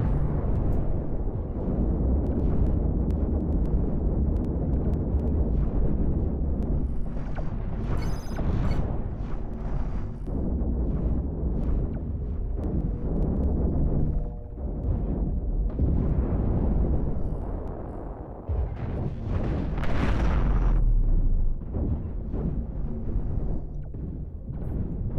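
Broadside destroyer cannons firing in the space-combat game Cosmoteer, loud continuous rumbling booms and blasts layered over each other for the whole stretch, with a sharper burst near the end.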